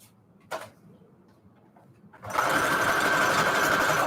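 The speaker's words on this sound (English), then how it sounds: "Love me a little zigzag stitch." A sewing machine runs a zigzag stitch on a shabby chic bedsheet notecard, starting after a couple of soft clicks and then whirring loud and steady at close range for the last couple of seconds, with no talking.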